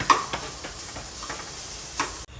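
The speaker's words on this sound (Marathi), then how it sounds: "आमी आता आणि बरो गोल्डन ब्राऊन जायसर भाजून घेवपाचो ह्यो" Chopped onions frying in a pan for a Goan chawli curry, giving a steady close sizzle with a few soft stirring scrapes and ticks, and no talking.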